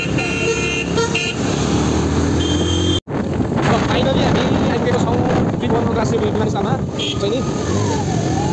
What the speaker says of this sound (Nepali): लगभग एयरपोर्टको जाममा हो यो